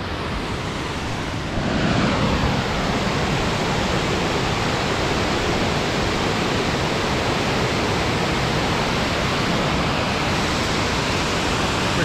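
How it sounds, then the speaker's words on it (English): Black Brook Falls, a roadside waterfall in Pictou County, Nova Scotia, roars as a steady, loud, broadband rush of falling water that swells slightly after the first two seconds and continues unbroken without voices. "this is a beautiful fall just in between, right off the road"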